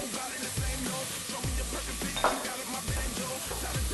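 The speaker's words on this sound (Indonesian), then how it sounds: "Lalu kita tumis bawang bombay. Setelah bawang bombay kita masukkan jahe dan kunyit." Onion, ginger and turmeric sautéing in olive oil in a pan for a Moroccan beef soup. A steady sizzle sits under repeated scraping strokes of a utensil stirring against the pan, with no talk.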